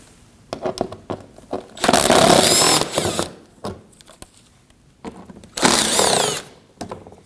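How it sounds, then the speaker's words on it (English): A power driver runs in two long whirring bursts, with clicks and handling noises between them, as two 5mm screws come out of the lower panel on the outer edge of the front bumper of a 2015-2024 Ford Edge 2.0L L4. "We'll remove these 2 5mm screws here on the outer edge of the front bumper."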